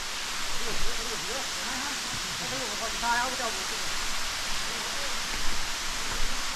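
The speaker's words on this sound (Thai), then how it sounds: "ทางลงเป็นน้ำตกครับ" Water rushes steadily down the tiered Phiang Din waterfall in Nong Hin district, Loei, a constant close, broad roar, with a voice speaking briefly over it.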